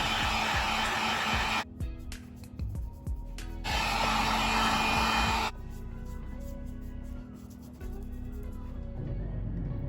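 A heat gun heat-setting paint on a handmade fishing lure blows with a steady close whooshing roar, switched off and on again several times, leaving quieter gaps between bursts.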